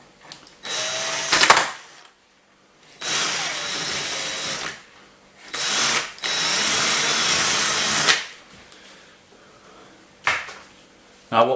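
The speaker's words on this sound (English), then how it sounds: "using your 5mm drill bit, we need to start to titivate the hole" A power drill with a 5mm bit whirs in several bursts of a couple of seconds each, loud and close, with short pauses between runs, enlarging a hole in a door for a handle.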